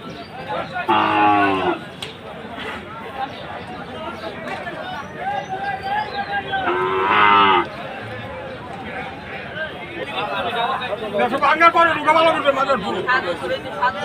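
Large Friesian cross bulls and cattle at a busy market in Ashulia moo loudly and repeatedly, long calls standing out over the hubbub of people talking nearby.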